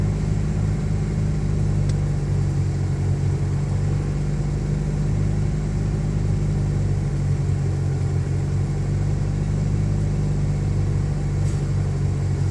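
A 1989 Geo Tracker engine idles steadily after a cold start, a close, continuous low rumble with an even, unbroken drone and no voices.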